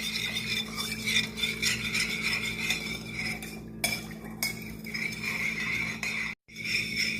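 Utensil scraping and clinking against a bowl while a sugar mixture is stirred for beignet dough, a steady busy clatter with a brief pause near the end.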